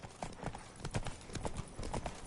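Horse hooves clip-clop steadily in The Witcher 3 game world, a close, regular trotting rhythm with faint voices and ambient background beneath.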